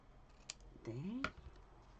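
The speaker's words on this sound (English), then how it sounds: "I'm just going to grab my ribbon scissors, and I shall chop that there" Ribbon scissors snip through ribbon at a card-making desk, giving two quiet, close, crisp cuts about a second apart over low room hiss, with a brief vocal murmur between them.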